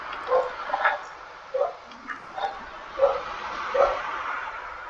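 A dog barks in a series of short, sharp yaps outdoors near a garden, with uneven spacing and moderate loudness against a quiet background.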